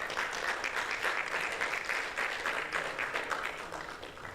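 Audience applause at an economic outlook and CEO's forum: a dense, sustained clapping from a large crowd, steady and loud for several seconds before easing slightly at the end.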